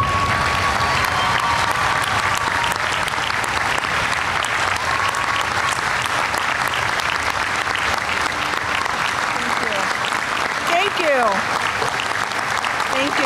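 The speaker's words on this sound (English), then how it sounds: "And now a big round of applause for a true American hero in the Congressman Tammy Duckworth." Sustained, loud applause from an audience at the commissioning ceremony for O'Hare Runway 10C-28C, steady dense clapping across the whole stretch with a faint tone and brief chirps near the end.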